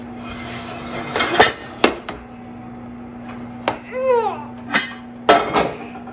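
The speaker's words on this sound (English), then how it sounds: "let's put the pot out of the oven" A cooking pot for sourdough bread is lifted from an oven with a series of sharp metallic clanks and knocks, a squeaky scrape in the middle, and quiet gaps between.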